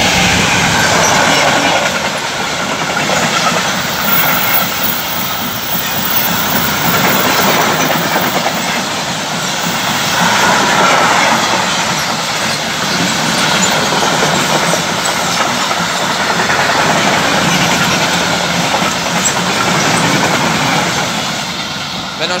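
Freight train hauled by a class 185 locomotive passing through Bad Soden-Salmünster station, a steady loud rumble and rattle of wagons with rhythmic clatter swelling and easing throughout.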